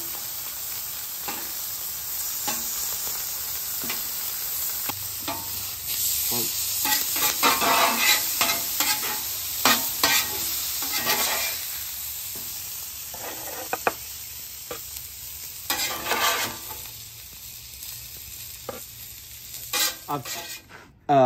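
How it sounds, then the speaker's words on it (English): Steak searing on a Weber flat-top griddle, a continuous close sizzle broken by frequent scraping and stirring strokes of a metal spatula, growing busier midway, with no voices. "Cook the steak to a rare stage because I'm going to throw it right on the flat top"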